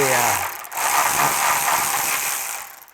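A wrench works the long exhaust band bolts on a Porsche 997 Turbo, producing a loud, close, continuous metallic ratcheting whir that holds steady, then fades at the end.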